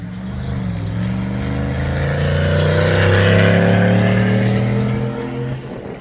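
A 2019-2020 Chevy Silverado 1500 with the 5.3 V8 and a Borla Atak exhaust gives a loud, steady deep exhaust drone that climbs in pitch as the revs rise, then eases off near the end, with no talking.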